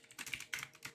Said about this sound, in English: God, I don't know what I'm typing.